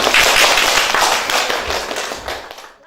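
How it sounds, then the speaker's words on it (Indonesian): Classroom applause for group 2 after a presentation, a dense burst of many hands clapping close and loud, thinning out and fading to silence within about three seconds. "Kita kasih aplaus"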